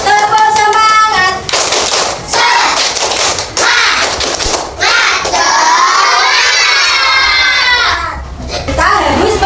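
Schoolchildren in a primary madrasah classroom shout a loud, energetic group clapping chant together, with bursts of hand claps between excited young voices close by.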